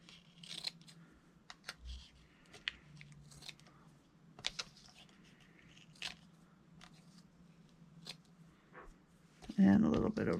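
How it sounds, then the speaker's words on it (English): Scissors trim excess cheesecloth on a handmade nature journal, several soft, scattered snips and rustles of fabric spaced through the passage, quiet and close, with a person speaking in between. "I'm going to just trim up a little extra of the cheesecloth so it's not quite so excessive"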